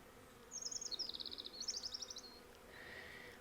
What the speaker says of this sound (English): this tree is absolutely swarming with pollinators